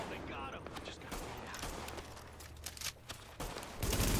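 Gunfire from the video game The Division, with repeated bursts and single shots crackling at an uneven rhythm over a steady backdrop of game ambience, ending in a louder, denser burst.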